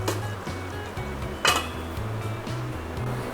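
A cooking pot gets its lid set on while Burmese egg curry simmers, a single clear metallic clink standing out over a steady low background rumble.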